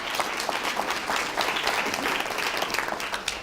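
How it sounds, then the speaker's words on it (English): Audience at a university scholarship reception applauding, a dense, even wash of many hands clapping at close range with no voices standing out. "Let's give him a round of applause."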